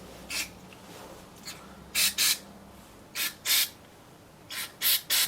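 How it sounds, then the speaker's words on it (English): Carb cleaner sprayed into a carburetor in short hissing bursts, about nine quick spurts in uneven pairs and singles, close and clear with no voices. "I don't see anything coming out underneath this carb as I spray this here."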